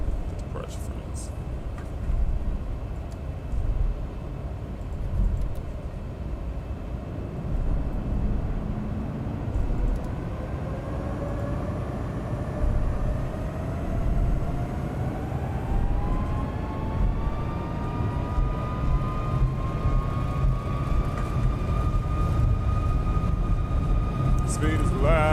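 Steady loud jet engine roar from a Boeing 737 MAX 8 in a flight simulator as it rolls down the runway on takeoff, with a tone rising gradually as the engines spool up; someone talks over it.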